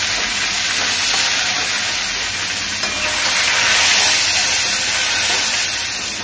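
Katla fish fries in hot oil, a loud dense continuous sizzle and crackle that swells slightly midway and holds steady throughout, with no voices.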